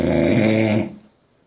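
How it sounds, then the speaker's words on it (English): A man snoring during a podcast recording, one loud rasping, guttural inhale lasting under a second before it cuts off into near silence. "snoring on our podcast right now"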